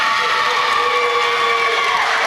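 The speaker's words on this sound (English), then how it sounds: "now the crowd began to boo some of these calls against the Lady Cats" Volleyball crowd in a gym booing a referee's calls against the home side, a loud sustained mass of voices with a droning jeer held evenly across the whole moment.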